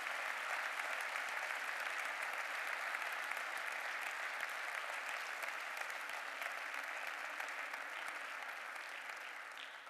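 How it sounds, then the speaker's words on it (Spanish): An indoor audience at a panel discussion applauds in tribute, a sustained wash of clapping from many hands that holds steady for about ten seconds before easing slightly at the end. "Polo tanto, lle rendimos a él un aplauso a ambos os dous nesta tarde polo pasamento dos mesmos."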